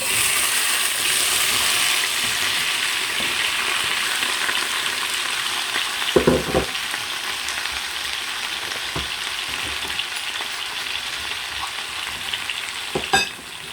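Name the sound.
mixed pepper and tomatoes frying in a little oil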